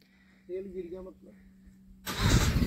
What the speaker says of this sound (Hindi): ट्रैक्टर स्टार्ट कर रहे हैं जी